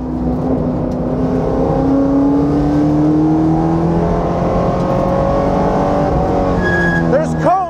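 A 2002 Mustang Cobra Grand Am race car engine revs loud and close on a track, its note climbing steadily toward the rev limiter at 6,000 RPM, with a faint voice underneath.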